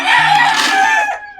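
A single loud, close rooster crow rings out, drawn out and tapering off at the end.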